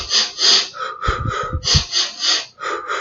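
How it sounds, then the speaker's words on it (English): Rapid short bursts of breathing through the nose or mouth, a quick rhythmic series of sharp, close puffs in and out, loud and alone. "start breathing in 3 short bursts in and 3 short bursts out through the nose or through the mouth"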